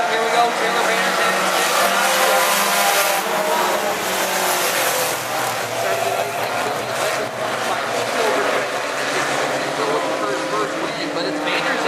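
Pro 4 trucks race around the Humberstone Speedway oval in a 2013 feature, a loud continuous roar of several engines rising and falling as the pack sweeps past, with an announcer talking over it.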